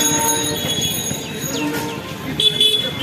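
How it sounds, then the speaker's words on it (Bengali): At a busy station, a train arrives with a continuous rumbling and rolling wheel noise and high thin squeals. Brief horn-like tones and a bustling crowd sound in the background, with no clear talk over it. "ট্রেন বোধহয় এসে গেছে"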